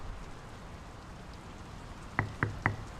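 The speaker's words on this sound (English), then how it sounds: "The rain's picking up." Steady rain falls in the video game Draugen, a soft, even patter throughout, followed near the end by three distinct knocks on a door in quick succession.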